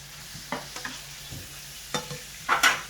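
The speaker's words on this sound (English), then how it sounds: "so I'm gonna saute my vegetables" Onions, peppers, garlic and Scotch bonnet pepper sauteing in a pan for vegan sweet and sour chickpeas, with a soft steady sizzle broken by scattered stirring scrapes and clinks that grow louder near the end.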